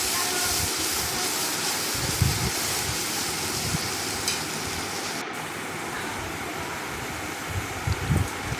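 Spices sizzle with turmeric and salt in a hot frying pan, a steady close hiss and crackle that runs throughout with a few small pops.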